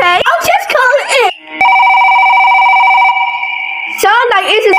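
A mobile phone in a Gacha Life 2 cartoon rings with a steady, loud electronic tone for about two seconds, with animated voices talking just before and after.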